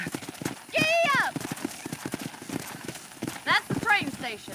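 Hooves of a horse galloping in Red Dead Redemption, with a steady rhythmic clip-clop up close, two loud whinnies, and a man's speech over the riding.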